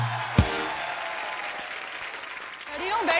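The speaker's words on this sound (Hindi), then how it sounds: "प्लीज आप सबकी जोरदार तालियों के बीच the very talented Anushka Sharma" Studio audience on The Kapil Sharma Show bursts into loud, steady applause welcoming actress Anushka Sharma, a thump near the start and a voice breaking in over the clapping at the end.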